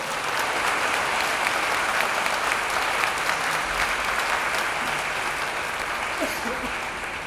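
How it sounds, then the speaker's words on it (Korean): Sustained applause from an audience fills a cathedral during a centennial consecration anniversary ceremony, dense and steady throughout with faint voices mixed in. "세 분께 뜨거운 박수 다시 한번 부탁드리겠습니다."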